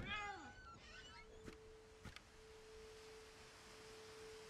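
In the video game What Remains of Edith Finch, a cat gives one short meow at the start, followed by a faint steady tone and a couple of soft clicks over quiet room ambience.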